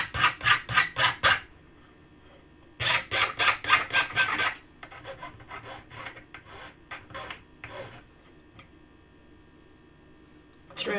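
Burrs are filed off the side of a workpiece in quick rhythmic rasping strokes, a burst of about six, a pause, then another longer run, followed by softer scraping and handling noises.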